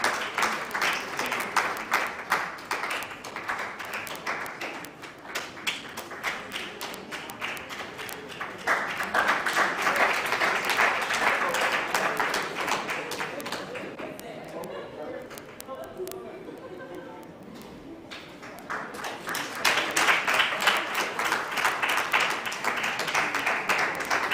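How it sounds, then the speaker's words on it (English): Prolonged audience applause at an innovation and entrepreneurship summit, crisp rapid claps rising and falling in waves with a quieter lull midway where talk comes through, then swelling again. "Let's continue to clap for them."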